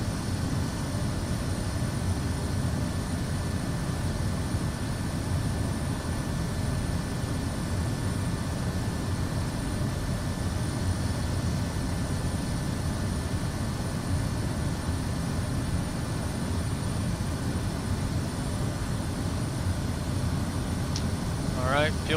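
Aircraft engine held at maximum throttle at 10,000 feet in Microsoft Flight Simulator 2024, a dense, unbroken roaring drone that stays level and loud for the whole stretch, with no talk over it.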